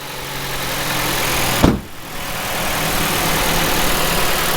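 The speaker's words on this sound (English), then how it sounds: "Engine sounds alright." A used Ford Fiesta with 250,000 km on it idles steadily and fairly loud nearby, its engine hum briefly dipping after a sharp knock before settling back to an even drone.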